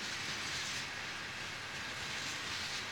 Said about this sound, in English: And here comes the end of the train.